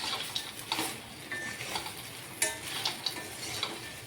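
Ivy gourd and besan curry being stirred with garam masala in a pan, a spoon scraping and clinking against the metal in several uneven strokes over a soft, steady sizzle, fairly close and with no voices.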